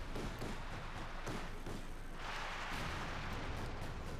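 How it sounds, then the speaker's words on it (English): Company of Heroes 2 artillery thumps repeatedly amid dense battle noise, a series of muffled booms and bursts rolling over a constant loud wash of gunfire and explosions. "So much artillery, though."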